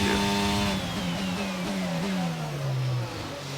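A Formula 1 car in the F1 22 video game at the Canadian Grand Prix, engine pitch sweeping downward as it brakes and downshifts, a loud revving whine falling steadily over a few seconds with no talk.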